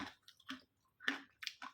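Close crunching and chewing of a Dua Kelinci Tigtag cassava snack mix, in several short crisp bursts with brief pauses between bites and no talk.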